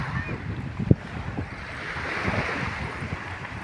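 Sea waves break at a beach in Ilihan, a steady rolling wash of surf with wind buffeting the microphone and a few soft thumps, and no talk.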